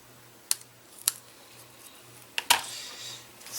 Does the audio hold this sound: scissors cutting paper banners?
yes